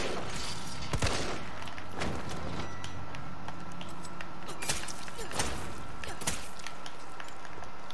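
Gunfire in Resident Evil 3 Remake while shooting an enemy: several sharp shots spaced a second or so apart amid busy clattering mechanical noise and a steady background hum.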